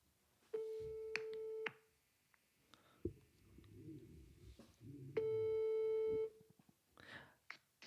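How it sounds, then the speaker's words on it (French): A telephone call signals with two long, steady electronic tones separated by a pause. Soft clicks and faint background noise fill the gaps, and no one speaks. "on va appeler Isaac"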